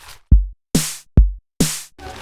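A drum pattern landing squarely on the beat: alternating deep kick thumps and bright snare-like hits in an even, steady rhythm, punchy and close with clean gaps between strikes.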